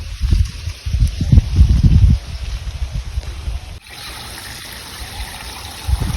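Water trickles and flows into an outdoor farm field beside a millet crop, with gusty wind buffeting the first couple of seconds before a steadier stream of running water continues.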